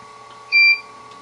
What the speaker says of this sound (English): See it beeped? And the fan come on.